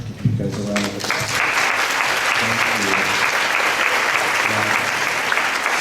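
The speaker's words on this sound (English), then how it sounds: "Give you guys a round of applause." An audience at an Alzheimer's caregiver families summit applauds, a steady, loud wash of clapping from many hands that fills the room, with a voice speaking briefly over the start.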